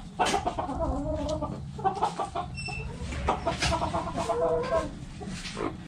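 Chickens on a farm cluck and chatter in repeated bursts, several birds close by with irregular rhythm over a soft outdoor background, with no one speaking.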